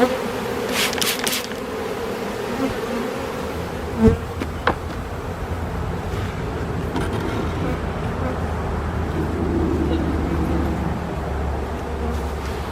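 Bees buzz densely around a hive with a broad, continuous drone close by, a few sharper passes darting near, and faint background noise underneath.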